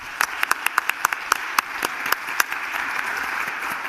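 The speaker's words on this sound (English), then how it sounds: "How about another round of applause for our panel?" Applause from a conference audience for a civic engagement panel, sparse at first with sharp individual claps standing out nearby, then thickening into a steady wash that fades slightly toward the end.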